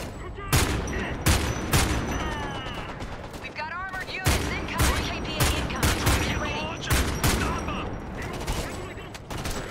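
Gunfire in Homefront: The Revolution during a battle to defend a position, sharp loud shots and rapid bursts repeating close by, with voices talking between the volleys.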